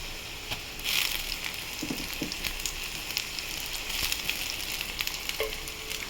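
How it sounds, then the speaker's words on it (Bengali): Ginger, garlic and green chili paste frying with onions in a pan for ghugni, a soft steady sizzle with a few light stirring clinks and scrapes, close and fairly quiet without talk. "এবার এই পেঁয়াজের মধ্যে আদা রসুন কাঁচা লঙ্কাটা আমি দিয়ে দেবো,"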